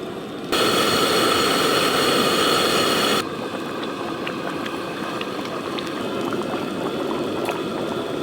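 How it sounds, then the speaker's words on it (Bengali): Chicken kosha gravy with slit green chilies and added water boils hard in a pot, a loud, dense bubbling hiss that drops to a softer, steady simmer partway through, with no talking. "গ্রেভি তো খুব ভালো করে ফুটে গেছে।"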